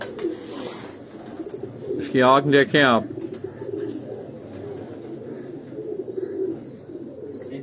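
Pigeons of a single breed coo in low, throaty bursts through the clip, with a louder patch of calling near the middle, while someone talks over them.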